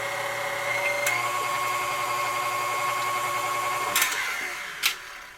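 A KitchenAid stand mixer churns a soupy bread dough of flour and water, its motor whirring in a steady mechanical hum with a few brief knocks and clicks near the end; no one speaks.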